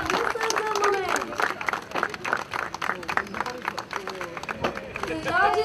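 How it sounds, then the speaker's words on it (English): At a wedding photo album world-record event, a crowd claps while people cheer and a voice talks over the noise, and the clapping swells again at the end. "Come on, a big round of applause, everyone."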